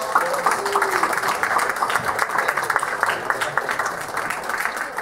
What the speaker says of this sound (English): big round of applause for Tim Riel